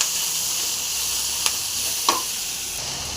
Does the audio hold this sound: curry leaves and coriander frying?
yes